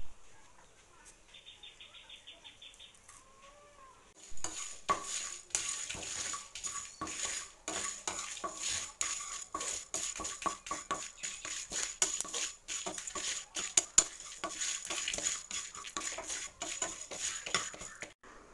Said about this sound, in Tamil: அதில் ஆயில் சேர்க்காம சீரகம், சோம்பு, மல்லி, மிளகு, கொஞ்சம் கருவேப்பிலை எடுத்துட்டு நல்லா ட்ரை ரோஸ்ட் பண்ணிக்கோங்க